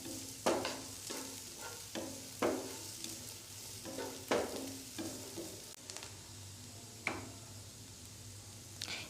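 Carrot and capsicum stuffing for a chicken club sandwich fries in a pan, a soft steady sizzle broken by a series of sharp scraping stirs at a loose, irregular rhythm, close and moderately quiet, with no voices.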